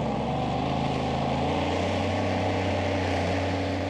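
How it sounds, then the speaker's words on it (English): A tractor-pulling machine powered by two Rolls-Royce Meteor V12 engines roars continuously at a competition in Brande, Denmark, a dense, steady drone heard from a moderate distance with no break. "And on here, two V12s. They're Rolls-Royce Meteors."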